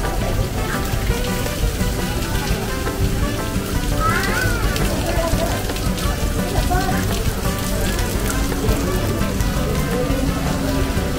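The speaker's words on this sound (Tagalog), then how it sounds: "Grabe talaga ang ulan." Heavy rain pouring at Gardens by the Bay in Singapore, a dense, loud, continuous hiss of drops pattering on surfaces nearby, steady throughout with faint background voices.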